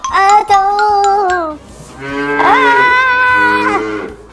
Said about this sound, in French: comment on va faire pour attraper cette vache maintenant?